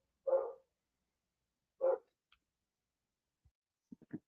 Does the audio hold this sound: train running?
no